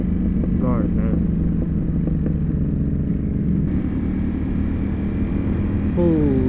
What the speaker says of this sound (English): That bike is popping like crazy.